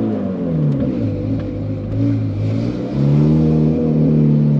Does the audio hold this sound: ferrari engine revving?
yes